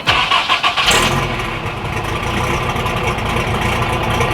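A Toyota 22RE engine cranks with a few rhythmic starter pulses, catches after about a second, then settles into a steady, loud running note with light revving, close by and with no voices.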